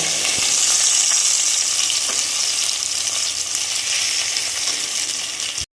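Stuffed pointed gourds filled with prawn sizzle steadily in hot oil, a loud continuous hiss that holds evenly for several seconds before cutting off abruptly.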